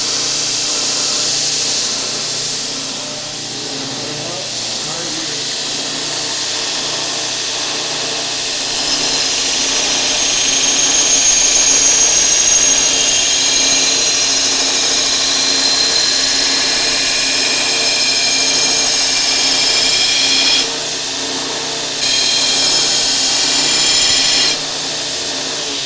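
A belt grinder roughing the bevel on a knife blade with an old worn belt, a loud steady whine with harsh grinding noise that swells and eases as the blade is pressed and lifted.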